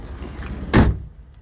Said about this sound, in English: Back door opens right here.